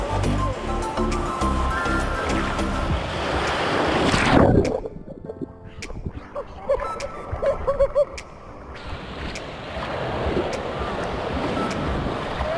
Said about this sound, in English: See how far the waves break out there, and they're like that all the way in.